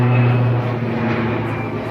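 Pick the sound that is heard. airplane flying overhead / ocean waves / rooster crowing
airplane flying overhead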